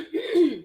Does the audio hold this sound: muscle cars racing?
no